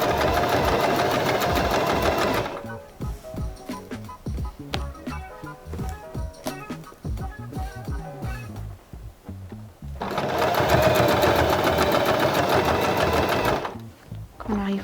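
A sewing machine stitches a patch onto the back of a pair of jeans, running in sustained loud bursts at the start and end with rapid mechanical ticking between them, while someone talks over it.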